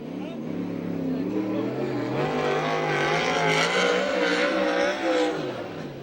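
A USAC/CRA sprint car at Santa Maria roars through a qualifying lap, engine note rising and falling steadily as it loops the track, loud and continuous beneath a commentator's voice.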